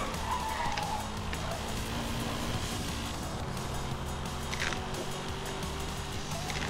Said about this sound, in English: I can't drift this fast car